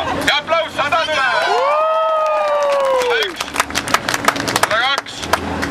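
A crowd of students cheers and applauds during a record attempt to pack a Simple Express bus in Tallinn, with loud whoops and a rising whistle-like cheer over busy voices.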